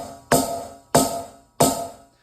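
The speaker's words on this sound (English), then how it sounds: "the next piece of equipment that I'd like to discuss is the snare drum" Three sharp snare drum hits on a white snare from a drum kit, evenly spaced about two-thirds of a second apart, each cracking loudly and ringing briefly before fading, close with no talk.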